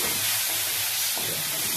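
Chopped tomato pieces frying in a pan with salt and a little turmeric, giving a dense, steady close-up sizzle and hiss with no talking.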